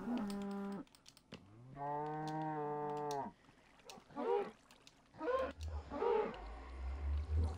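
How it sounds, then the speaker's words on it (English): Minecraft cow mooing twice in long, drawn-out calls, clear and close, followed by someone talking and rustling game sounds. "How did a cow get up there?"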